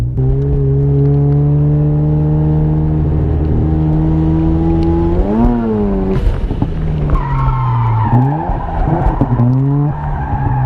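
A Mazda RX-7 FC drifting at a winter event, its engine holding a loud sustained high rev with tire squeal, then dipping and surging again as the car slides close by.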